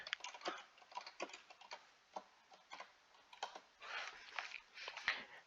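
Quiet, irregular clicking of keys on a computer keyboard being typed on, short taps in uneven bursts with pauses, close and soft.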